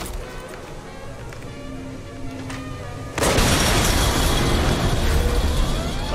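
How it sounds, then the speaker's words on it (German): In Far Cry 6, a sudden loud blast erupts midway at a pump station, following quieter rumbling and talk, then a sustained roaring, crackling noise continues. "jetzt ist endgültig explodiert."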